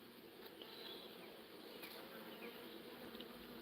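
Bees hum in a steady, soft swarm around a beekeeper, with the odd louder insect passing close by; faint and continuous, with no talk.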